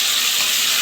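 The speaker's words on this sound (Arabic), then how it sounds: "اقلب الفراخ" Tandoori chicken frying in a hot pan with oil or ghee, heard as a short burst of dense, close sizzling hiss as a piece is turned.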